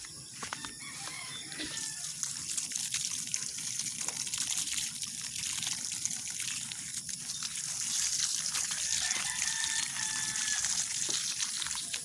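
Water trickles and gushes steadily while plants are watered outdoors in the early morning, a continuous close splashing flow, with a rooster crowing faintly in the distance.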